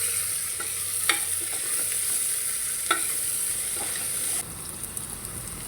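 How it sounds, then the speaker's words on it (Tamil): Onion, garlic, curry leaves and dried red chillies sizzle in hot oil in a pan, a steady close frying hiss broken by a few sharp stirring scrapes, with no voices. "இது கூடவே கொஞ்சம் பூண்டு, கருவேப்பிலை, வரமிளகாய் எல்லாத்தையும் சேர்த்து நம்ம வதக்கிடலாம்."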